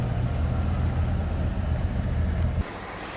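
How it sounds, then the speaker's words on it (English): A 1964 Corvette V8 idles close by with a steady low rumbling throb, then cuts to a quieter, thinner engine sound near the end. "Engine sounds good."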